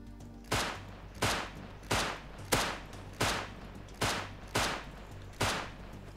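Gunshots in the survival game Rust ring out as eight sharp, loud reports, each with a short echoing tail, evenly spaced about three-quarters of a second apart, with no voices.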